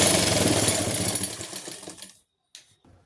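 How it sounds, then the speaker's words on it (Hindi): Sewing machine stitching right along the edge of buckram for a shirt collar, a loud steady mechanical whirr for about two seconds that stops abruptly, followed by a few brief faint taps. "मैं बुकरम के बिल्कुल किनारे किनारे पे सिलाई लगा रही हूँ।"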